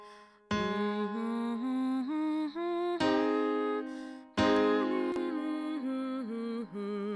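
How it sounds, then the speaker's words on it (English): A single voice sings a stepping major pentatonic scale (degrees 1, 2, 3, 5, 6, 1), steady sustained notes rising and falling, heard three times in a row with short breaks between runs. "So if we were doing major pentatonic, it would sound like this."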